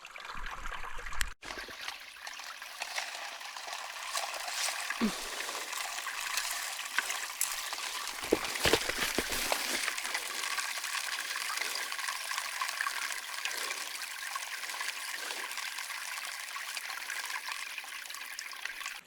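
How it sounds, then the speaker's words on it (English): Creek water runs steadily through a gold prospecting sluice at Nelson Creek, New Zealand, a continuous close trickling wash with a few splashy surges and no talk. "We'll go run it through the sluice."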